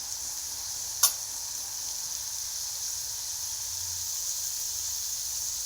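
Onion and curry leaves sizzle in hot oil for a tempering, a steady bright hiss that holds even throughout with one brief sharp crackle early on.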